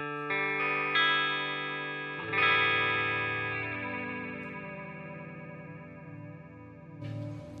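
Electric guitar through a modulation effects unit set for a very subtle phaser-like chorus, strummed chords ringing out with gentle swirling shimmer, a second strum near the start and another late, close and alone.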